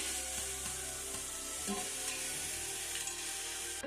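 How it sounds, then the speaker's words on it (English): Onion sautéing in a pan makes a faint, steady sizzle with a few soft stirring taps, close but quiet, no talk. "Saute onion. It's nice and flavorful."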